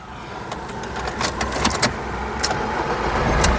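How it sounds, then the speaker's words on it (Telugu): 2015 Fiat Avventura Emotion starting on the first crank, then settling into a steady idle, heard close with small clicks and key-like jingles scattered throughout. "ఒకసారి ఈ కారు ఇంజన్ స్టార్ట్ చేసి చూపిస్తానండి చూడొచ్చు"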